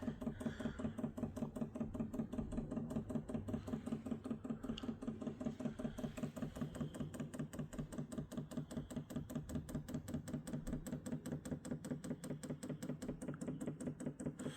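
A diesel heater fuel pump primes with a steady, rapid mechanical ticking that continues evenly throughout, close and fairly loud, with no voices.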